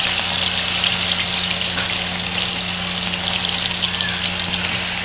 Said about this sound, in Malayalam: ആ എണ്ണയിലേക്ക് നമ്മൾ ഓരോരോ പീസ് ഇങ്ങനെ പൊരിച്ചെടുക്കാം